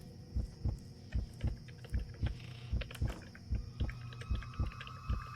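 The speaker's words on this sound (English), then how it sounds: "I've mercifully turned down the volume of the, of the heartbeat sound effects" Heartbeat sound effect from the video game Cataclysm: Dark Days Ahead, a steady, regular thumping pulse of low beats repeating about every half second, with a faint hum and soft game noises underneath.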